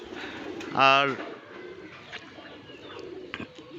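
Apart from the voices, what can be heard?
pet pigeons cooing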